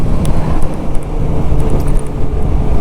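A Suzuki GSX-R 600 K7 motorcycle cruises in sixth gear at just over 4,000 RPM, its engine a steady low drone under heavy, rushing wind noise, loud and continuous throughout.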